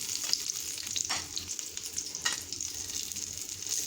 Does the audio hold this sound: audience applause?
no